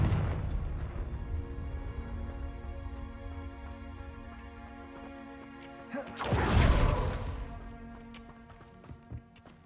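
A Confringo fire spell explosion in Hogwarts Legacy: a sustained rumbling blast with a loud burst in the middle over ongoing game music and tones, fading into smaller thumps.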